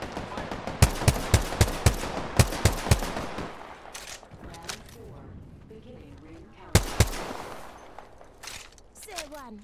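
Video game gunfire sounds as bursts of rapid shots early on, then a quieter stretch, then another sharp volley, with players talking over the action.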